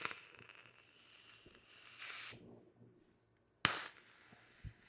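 Gas is vented from an X-68 airsoft gun in short, sharp hissing bursts, one sustained spray, a pause of near silence, then a loud sudden blast up close.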